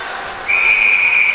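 Referee's whistle at a high school varsity ice hockey game, a single sustained shrill blast starting sharply and holding steady, loud and close over faint arena background.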